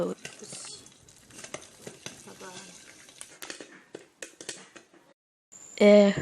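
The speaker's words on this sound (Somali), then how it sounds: "saxaada waxaan saaran digsi saliida ku jirto digsiga hadda waxaa ku shubnay galeydii" Maize kernels tumble into hot oil in a pot and start frying, scattered crackles and clinks of kernels against the metal with stirring, ending in a sudden loud sizzling burst.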